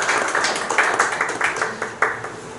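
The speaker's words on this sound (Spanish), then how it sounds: "otro aplauso para la excelente participación del doctor" An audience at an academic talk applauds the invited doctor, a steady wash of many hands clapping with a few sharper individual claps standing out, fairly loud and even throughout.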